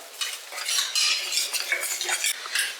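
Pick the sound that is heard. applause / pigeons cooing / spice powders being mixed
spice powders being mixed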